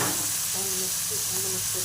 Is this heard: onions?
yes